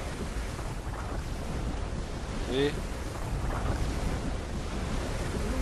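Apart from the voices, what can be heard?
water sounds in video game Uncharted 2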